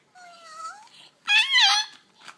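Two close, loud cat-like meows: a thin rising cry, then a pause, then a stronger, wavering meow that trails off.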